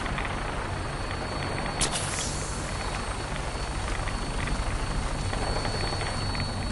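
A Brotherhood aircraft flying in Fallout 4, a steady droning rotor-and-engine roar that holds close and loud throughout, with a brief metallic clank early on.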